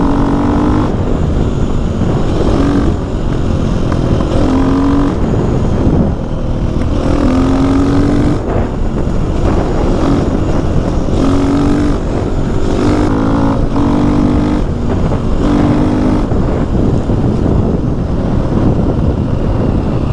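A KTM 450 EXC dirt bike is ridden hard, its engine revving up and down in repeated surges and gear changes, loud and close with wind buffeting throughout and no talking.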